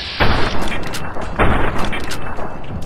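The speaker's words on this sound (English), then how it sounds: "Oh, he's throwing dynamite." Dynamite explosions in Fallout: New Vegas around the town of Primm, two heavy booms about a second apart with dense, rumbling low end, each followed by loud sustained game noise and gunfire-like clutter.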